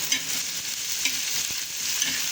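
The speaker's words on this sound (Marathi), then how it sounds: "आता याला दोन मिनटं कांद्याला परतून घ्यायचं" Finely chopped small onion sautés in a pan on a tawa for pithla, giving a soft, steady sizzle with light stirring scrapes, fairly faint and close, with no voices.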